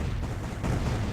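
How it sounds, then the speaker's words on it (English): Explosion in the space strategy game Distant Worlds during a fleet battle, a dense, rumbling, gunfire-like blast that swells again midway through the short clip. "Big explosion."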